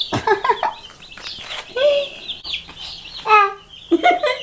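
Several chick clucks and chirpy calls come in short bursts with pauses between, close and moderately loud, no talking.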